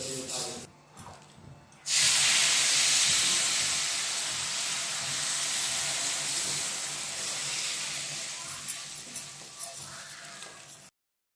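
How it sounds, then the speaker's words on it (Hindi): Garlic, chilies and cumin tempering hits hot dal with a sudden loud, sustained sizzle that slowly settles and crackles toward the end, after a few seconds of quieter kitchen noise. "दाल में मैंने लगा दिया तड़का"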